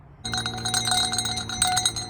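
A giant antique Crodal number 11 bell, cast metal with heavy patina and freshly cleaned of dirt, is shaken and rings with bright, clanging, sustained metallic tones in rapid repeated strikes, loud and close.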